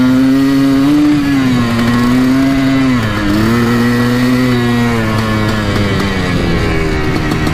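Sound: Yamaha YZ490 dirt bike engine revving

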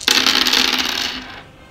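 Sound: dice rolling in board game Axis and Allies 1941

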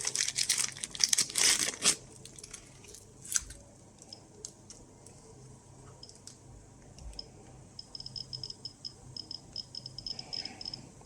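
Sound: Geiger counter (SBT tube) clicking as an alpha source approaches

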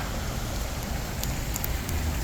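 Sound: clear water flowing down through a park after rain

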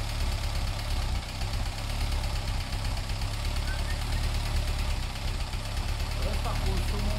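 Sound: 22 kW 380/220 V generator engine running

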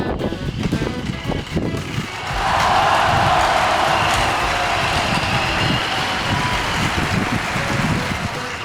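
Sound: remote-control toy motorcycle driving and cornering

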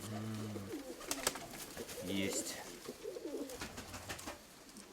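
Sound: pigeon cooing

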